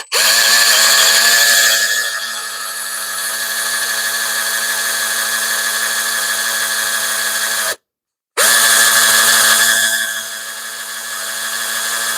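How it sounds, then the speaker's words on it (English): A cordless power drill whines steadily at high speed, bogging slightly as it bores holes for carriage bolts, stops briefly, then spins up again loudly and close. "we're going to drill. I'd like to put 4 holes in this thing for 4 carriage bolts."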